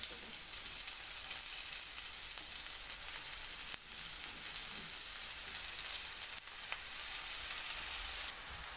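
Chopped fenugreek leaves hit onions already frying in hot oil for a Maharashtrian methi bhaji, giving a steady, loud, close sizzle that runs continuously with brief dips, and no voices.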